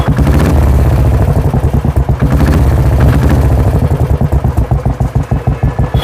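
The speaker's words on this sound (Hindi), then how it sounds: "आप देख रहे हैं whistle exhaust bye sense motor shop" A Royal Enfield motorcycle fitted with an aftermarket whistle exhaust idles loudly nearby, its thumping single-cylinder pulse steady and rhythmic, with a couple of brief throttle swells and no speech.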